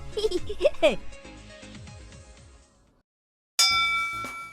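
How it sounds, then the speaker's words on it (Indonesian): A happiness bell in Japan rings out with a bright, sustained metallic tone that fades, then strikes again sharply and loudly near the end. "bunyi yang kencang. Ini kan lonceng kebahagiaan."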